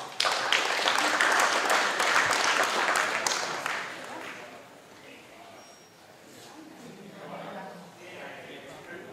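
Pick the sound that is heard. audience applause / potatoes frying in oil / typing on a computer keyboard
audience applause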